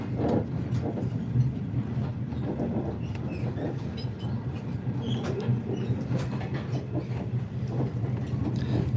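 A train rides on rails aboard The Overland, giving a steady, continuous rumble with a faint clickety-clack from the wheels throughout, up close and with no talking.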